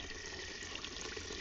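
Water gushing steadily from a pipe in an indigenous village in Panama, a close continuous splashing flow with no voices.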